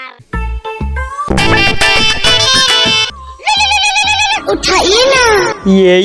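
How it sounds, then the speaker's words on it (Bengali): A phone ringtone plays a bright, melodic electronic tune in shifting bursts, loud and close, with a voice heard briefly at the start. "অফিস থেকে ফোন"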